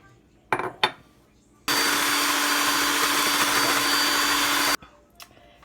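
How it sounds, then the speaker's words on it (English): An electric mixer beats Koulourakia Greek cookie dough in a bowl, a loud, steady whirring drone that runs for about three seconds, bracketed by a few soft knocks before and after. "we are going to beat that with an electric mixer until it's all mixed together"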